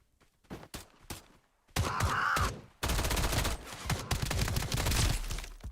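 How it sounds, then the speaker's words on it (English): Gunfire from a mercenary in the video game Escape From Duckov: a few sharp isolated shots, then two long stretches of loud rapid automatic fire. "That's a mercenary shooting."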